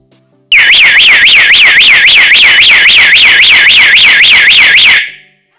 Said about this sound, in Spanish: en cuanto abramos una puerta o ventana, se va a producir un salto de alarma